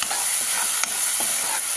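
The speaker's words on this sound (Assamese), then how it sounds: "পদিনা আৰু ধনিয়া এখিনি খুব ভালদৰে মই এখিনি ভাজি লম" Mint and coriander leaves frying in hot oil, a loud close continuous sizzle with occasional soft stirring scrapes, no voices.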